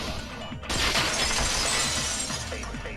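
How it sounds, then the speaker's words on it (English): A sudden loud crash of a window shattering in the video game Danganronpa 2, followed by a spray of tinkling shards that rattles on for a couple of seconds. "the girls heard the sound of the window shattering"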